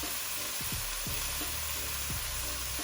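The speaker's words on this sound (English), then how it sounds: "I'm gonna saute this for about 2 or 3 minutes," Herbs sautéing in a pan for prawn fried rice give a steady, close sizzle with a few soft scraping stirs, no talking.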